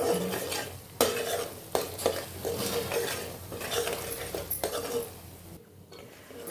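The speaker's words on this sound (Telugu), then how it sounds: "అల్లం వెల్లుల్లి పేస్ట్ వేపుతుందండి, కలుపుతుండాలి." Ginger garlic paste frying in hot oil for prawn pickle, crackling and sizzling steadily as a spoon stirs and scrapes the pan, close and moderately loud with a few sharp clinks.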